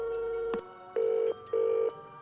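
Telephone keypad tones sound in the Nancy Drew game Curse of Blackmoor Manor: a brief beep, then two longer steady tones with short gaps between them, clear and alone.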